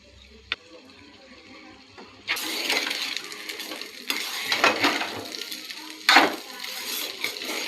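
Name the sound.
hot rice being added and stirred in a pan for peanut egg rice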